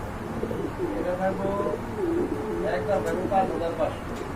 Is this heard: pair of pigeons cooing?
yes